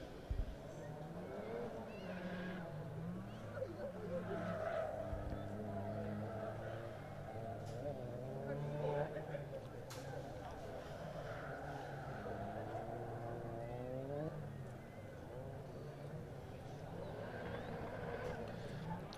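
Caterham race cars, Sigma 150 and Sigmax, rolling onto the grid at Donington Park, their engines a steady low rumble with shifting harmonic tones, running continuously under commentary.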